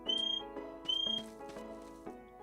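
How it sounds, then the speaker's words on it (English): Two short, bright whistle blasts from the video game Staxel, each lasting about a quarter second, sounding over a steady backdrop of in-game music. "So this is a whistle for Tilly."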